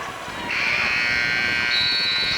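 At a high school basketball game between Lincoln Park and Simeon, the game buzzer sounds in a loud, sustained electronic blare over crowd noise.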